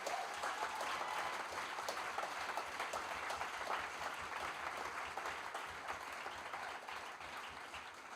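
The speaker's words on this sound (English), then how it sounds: "Let's give a big applause again for Team Pico." Audience applause for Team Pico at a product design fair, continuous even clapping from a crowd at moderate distance, lasting throughout without pauses.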